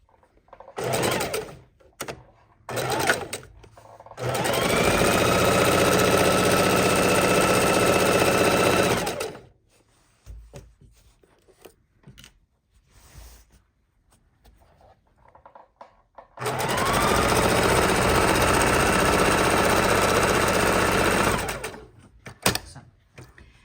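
A sewing machine stitches a tote bag seam in two long, steady whirring runs, separated by quiet clicks and fabric handling.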